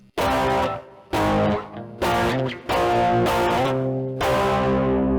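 Distorted electric guitar strums ring out in five or six sustained chords, one sliding up in pitch, loud and close with no voices.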